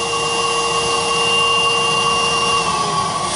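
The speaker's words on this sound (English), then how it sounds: "This vacuum has 2 fans in its motor, not just one, 2 fans, and it produces over 90 inches, almost 95 inches of suction power." A Nybakke 80th Anniversary canister vacuum cleaner with a twin-fan motor runs steadily, a loud, even rushing drone with sustained whining tones and no breaks.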